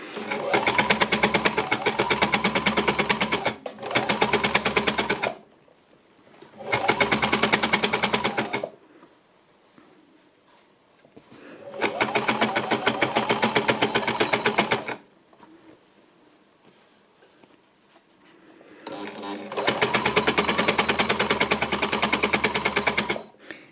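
An embellisher machine stitches lace onto base fabric in five separate runs, each a steady, close, rapid mechanical whirr of a few seconds. Near-silent pauses fall between the runs.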